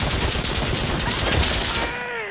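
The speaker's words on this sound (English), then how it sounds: "Why is this guy just shooting?" Rapid bursts of gunfire from Insurgency: Sandstorm crackle loudly and continuously for about two seconds, dense overlapping shots close by before tailing off into a brief ringing decay.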